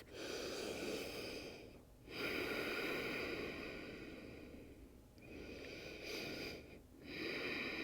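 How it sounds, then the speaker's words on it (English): Slow, audible breathing cycles during a vinyasa yoga practice, with long breaths that rise and fall at a steady, unhurried pace, heard close and alone without any talk. "Take 3 cycles of breath"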